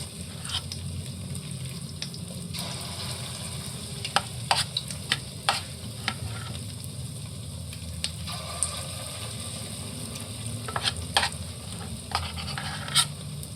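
Meatballs sizzle steadily in a frying pan, a close, continuous crackle broken by sharp scraping clicks as they are stirred and turned, with no voices.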